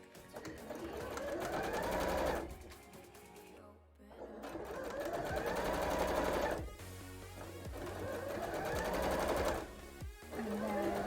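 A sewing machine stitches puffy cosplay shorts in rapid whirring bursts of about two to three seconds, separated by short pauses, close and fairly quiet, with a voice speaking briefly.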